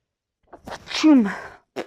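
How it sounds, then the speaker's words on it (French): A single sharp sneeze from a woman, close and fairly loud, preceded by a short intake of breath and followed by a brief exhale, in an otherwise quiet room. "Le fait que j'éternue comme ça"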